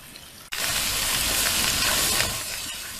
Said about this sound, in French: quand mon oignon commence à dorer comme ça